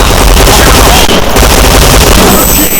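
P90 submachine gun firing in the online shooter Point Blank, a very loud, dense sustained burst of rapid shots filling the moment without a break.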